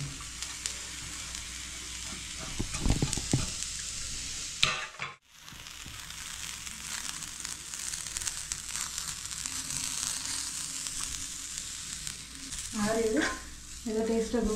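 Grated coconut roasts in a pan for a Sri Lankan crab gravy, a soft, steady frying hiss with stirring scrapes, one brief dropout midway and a clatter of stirring near the end.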